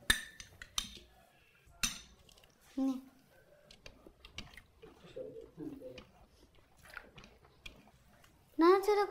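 Cutlery scraping and clinking against a plate as someone toys with food at a home meal, a few sharp clinks scattered over several seconds, close by, with a voice talking between them.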